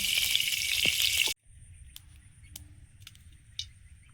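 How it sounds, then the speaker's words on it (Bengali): Dried red chili, bay leaf, whole cumin and ginger hitting hot oil as a tempering for khichuri: a loud, bright sizzle that cuts off abruptly after about a second, leaving faint scattered clicks and crackles. "এবার ফোড়নে দেবো। ও খিচুড়িটা ফোড়ন দিয়ে নেব।"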